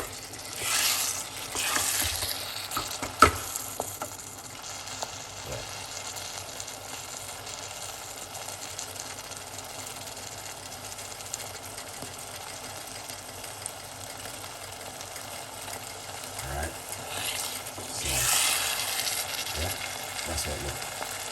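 Chickpeas and broccoli with other vegetables frying in a pan: a constant faint sizzle with scraping stirs and occasional utensil clacks, noisy and low in level throughout.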